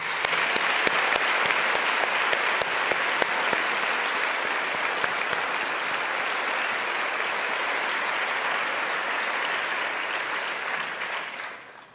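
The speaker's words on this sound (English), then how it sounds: "Please join me in giving them a big round of applause" Sustained audience applause at a Class of July 2016 valedictorian graduation speech: a dense, loud wash of many hands clapping for about eleven seconds, then tapering off quickly at the end.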